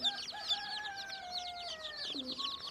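Newborn chicks on a farm chirp together in bright overlapping peeps, with a few longer sliding calls among them, close and fairly quiet.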